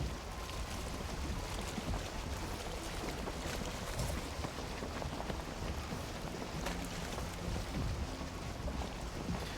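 A boat sails through the Mistlands in the survival game Valheim, with a steady wash of wind and water rushing around the hull, loud and unbroken throughout with no talk.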